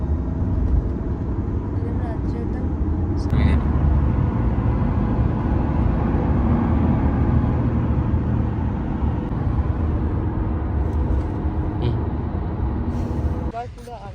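Steady road noise from inside a taxi on a Dubai road, a constant low engine and tyre rumble throughout with a brief whooshing swell near the start and a sharp clatter as it fades at the end.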